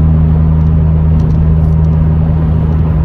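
A 2005 Ford Fiesta ST cruising at about 50 mph in fifth gear around 2,500 rpm, a loud, steady cabin drone of engine hum and road rumble with an even low tone throughout and no talk.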